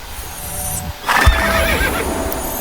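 A horse in a video game gives a loud, close neigh after a quiet stretch of faint background sounds.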